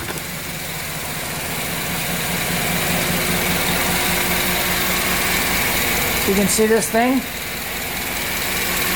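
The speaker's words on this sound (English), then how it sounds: "truck running, boys and girls, it's running." A Chevrolet Silverado pickup truck engine idles with a steady rumble throughout, with someone speaking over it and a brief rising rev or whine near the end.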